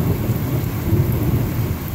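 Deep thunder rolling during a heavy rainstorm in Los Banos, California, a loud low rumble over a constant hiss of rain, steady and without voices.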